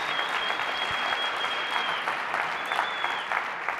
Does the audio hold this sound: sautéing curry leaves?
no